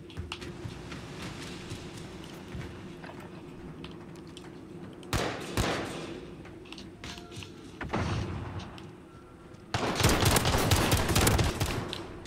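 Gunfire in a shooter video game comes in sharp broadband bursts: a short volley, then a second, and a louder sustained barrage near the end, all over a steady low background hum.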